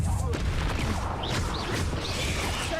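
Confringo blasting spell cast in Hogwarts Legacy: loud, dense crackling blasts and booms fill the whole stretch, layered with whooshing game effects and a voice speaking over them.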